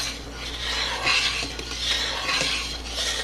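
A spoon stirring boiling organic black raspberry jam in a pot, with continuous scraping and rubbing strokes over a rolling bubbling boil, close and fairly loud, with no talking.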